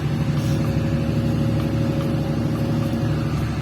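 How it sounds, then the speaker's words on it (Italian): A bus speeds along a road during a trip through the Amazon, its engine and road noise forming a loud, steady roar with no pauses throughout. "quest'autobus va un po' troppo veloce"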